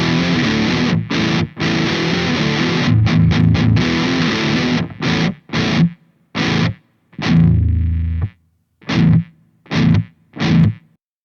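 High-gain electric guitar through an Engl Powerball II amplifier with its built-in noise gate engaged, playing heavy chugging riffs and then short staccato chord stabs separated by clean silences where the noise is shut off.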